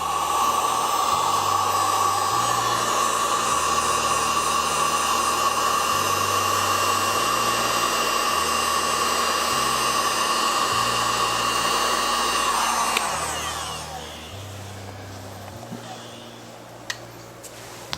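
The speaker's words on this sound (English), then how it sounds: "And then we're just going to hit the heat gun." A heat gun shrinks heat-shrink tubing over a soldered wire connection for an arcade gaming table, giving a loud, steady blowing whine that runs for about thirteen seconds and then cuts off, leaving a quieter hum with faint music underneath.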